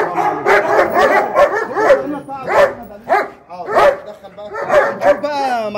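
Dog barking loudly and repeatedly at close range, a large aggressive male being tested for guarding, with rapid bursts of barks and yips throughout and people's voices mixed in underneath.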